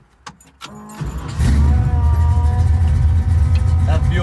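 A garage-built 1965 Fastback with a 347 engine setting off on its first drive: a few clicks and jangling keys, then the engine comes up into a loud, steady, close rumble that carries on to the end.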